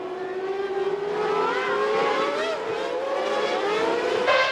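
McLaren Mercedes Formula 1 race cars at the 1998 Italian Grand Prix: a loud, sustained high-pitched engine scream with rising and falling pitch as cars pass, continuous and close, with no voices.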